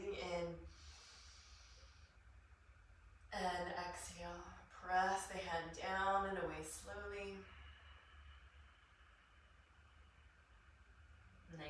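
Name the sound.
deep breathing during yoga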